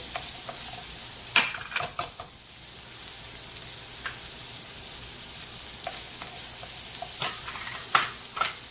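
Shallots frying in avocado oil in a pan while cooking tilapia Italian style, a steady close sizzle running throughout with a few sharp stirring scrapes and clicks over it.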